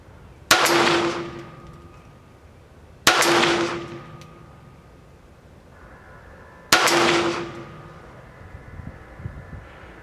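Three sharp pistol shots from a Smith & Wesson Victory at a target, widely spaced with a ringing decay after each, fired one-handed on a range, loud and close with no talking.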